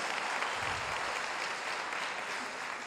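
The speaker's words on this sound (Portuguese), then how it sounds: "Pode aplaudir, Deus é bom." A congregation at a church service applauds briefly, a dense, even spread of clapping from many people at moderate volume with no voices standing out.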